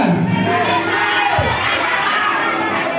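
At a motivational seminar, a large audience of students shouts their school names all at once, forming a loud, dense wall of overlapping young voices and cheers that holds steady throughout.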